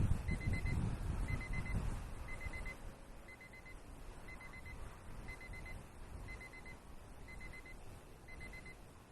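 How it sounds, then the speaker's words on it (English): An alarm beeps in a steady, repeating pattern of short electronic tones over constant wind and outdoor noise during an XK Edge A430 RC plane flight in the desert with a new motor and prop. "My alarm's going off, so we'll bring it in for a landing."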